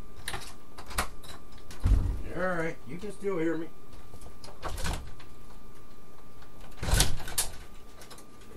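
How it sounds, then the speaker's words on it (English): A door clunks open and shut among faint room noise, with a person talking from a distance in between. "I open the door and let the kitty out."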